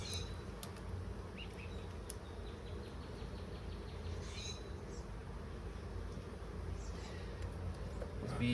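Honey bees hum in a steady, dense drone during a hive frame inspection of a nine-frame setup, close and continuous with faint higher buzzes of individual bees passing near.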